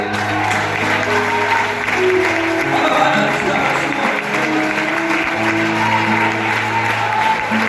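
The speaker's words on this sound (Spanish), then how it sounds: "Vamos a darle otro aplauso a Él" Church congregation claps in praise during a worship service, a steady crowd applause blended with sustained keyboard chords, and a voice calls out briefly over it.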